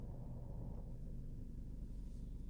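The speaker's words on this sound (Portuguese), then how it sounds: "É só um barulhinho bem de longe do motor e também do ar-condicionado." Inside a Jeep Compass Limited 2.0, a faint, steady low rumble of the engine blends with the soft hiss of the air conditioning, a constant quiet background drone.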